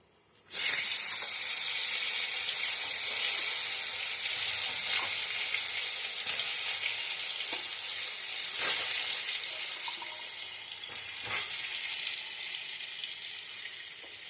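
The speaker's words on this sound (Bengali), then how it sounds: "নুন হলুদ মাখিয়ে রাখা পটলগুলো আমি একে একে তেলে ছেড়ে দেবো" Pointed gourd pieces coated in salt and turmeric fry in a small amount of hot oil, giving a loud, steady sizzle that starts abruptly and runs throughout, broken by a few faint clicks and pops, with no voices.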